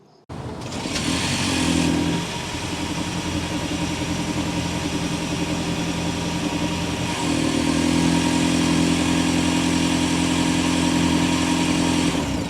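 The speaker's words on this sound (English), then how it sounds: "start up, so you can hear that exhaust note" A 2023 Toyota Prius XLE starts up, its engine catching after a brief quiet moment and settling into a steady idle hum that swells louder partway through, with no talking over it.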